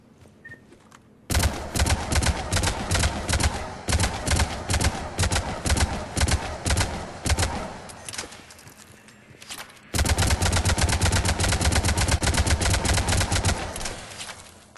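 Avenger assault rifle in Mass Effect 3 firing long full-auto bursts, loud and close, a dense rattling stream broken by a short pause before a second sustained burst.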